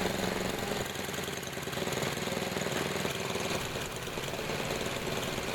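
A Tecumseh small engine runs steadily while its carburetor is being tuned, settling toward idle, a close, continuous rough buzzing chug with a fast even knock and no talking.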